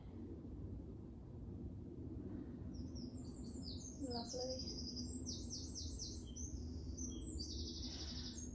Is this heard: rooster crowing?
no